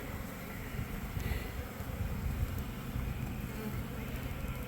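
Honey bees buzz in an open beehive as the frames are brushed, a steady, dense low drone close by, mixed with some rough wind-like noise and no voices.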